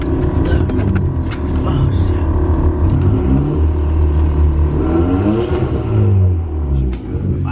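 A 2018 Hyundai Elantra Sport turbo engine with a catless downpipe rumbles and revs deeply, swelling and falling in loud, close pulls while people talk excitedly over it.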